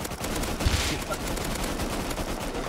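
Gunfire in Rust: a continuous crackle of rapid shots with a brief louder thump, dense and steady at moderate distance.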